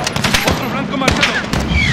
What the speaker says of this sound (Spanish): Disparo, Gary. Fuego